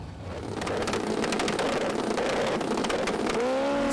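Super street bikes launch off the start line in a drag race at the FIM European finals, a loud, sustained engine roar building steadily, with a rising whine near the end.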